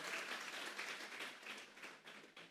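A church congregation bursts into applause, a dense patter of many hands clapping, fairly distant and continuous, with slight swells in intensity.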